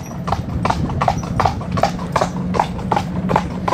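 A three-year-old harness horse trots in a riding arena, its hooves striking in a brisk, even clip-clop rhythm, close and clear for the whole stretch.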